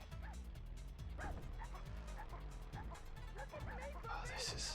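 Puppy barking and yipping repeatedly in the PS1 racing game South Park Rally, moderately loud, with engine hum and game sounds underneath.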